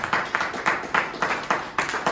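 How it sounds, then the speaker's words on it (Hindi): Audience at a seminar breaking into applause, rendered as a series of sharp, evenly spaced bursts of clapping that come roughly every quarter second, fairly loud and close, with a faint murmur of voices beneath. "उनके लिए एक बार जबरदस्त तालियां चाहूंगा आपके लिए, आपके द्वारा"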